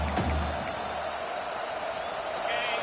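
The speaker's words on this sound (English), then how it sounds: "The roar of the crowd trying to fuel this defense to keep them pinned in their own end." A home crowd at a football game roars in a sustained, even wash of noise that holds steady throughout, with a brief sharper sound near the start.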